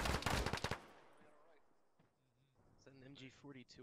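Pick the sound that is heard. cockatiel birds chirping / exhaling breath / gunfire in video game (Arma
gunfire in video game (Arma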